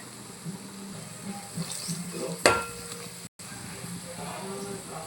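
Spoon stirring a paste of cloves, cardamom and garlic into curry in a frying pan, with a soft scraping swirl and faint sizzle, one sharp clink partway through, and a voice speaking over it.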